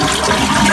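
A toilet flushes as its tank empties with the water supply turned off, giving a loud, steady rush of water up close with no talking.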